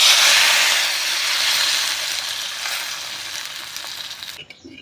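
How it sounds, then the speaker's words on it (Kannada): Hot tempering poured into sambar, a strong hissing sizzle that is loudest at the start and slowly fades, then cuts off abruptly near the end, with no voices. "ಈ ಸಾಂಬಾರಿಗೆ ಒಗ್ಗರಣೆ ಕೊಟ್ಕೊಳ್ಳೋಣ."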